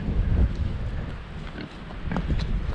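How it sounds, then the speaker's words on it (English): Pigs on a farm give low grunts and oinks close by, mixed with shuffling and handling noise, with no talk over them. "Hi piggy pigs."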